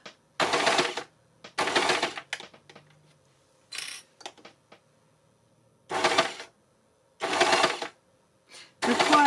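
Overlocker sewing machine stitching fabric in short bursts of rapid whirring, five or six separate runs with quiet gaps and small clicks between, close and clear with no voices.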